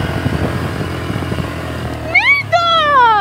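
Motorcycle ride on a Thai island, with a low rumbling engine under close conversation, then a rising whine as the bike accelerates and shifts, climbing in pitch twice over a few seconds.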